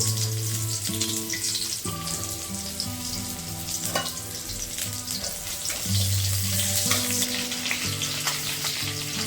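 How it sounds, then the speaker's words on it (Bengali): Black cumin seeds and onion frying in hot oil, a continuous close sizzle with occasional stirring clinks, loud and steady with no voices. "একটু কালো জিরে দিয়ে দিচ্ছি ফোড়নে পেঁয়াজ দিচ্ছি"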